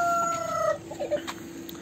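Hens in a sunny, warm run give a few short clucks and calls from the shady corners, moderately close, with quiet pauses between them.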